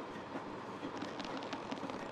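A train running in the Paper Mario: Color Splash video game, a steady rolling rumble with faint rhythmic rattling, playing alone at moderate level with no talk.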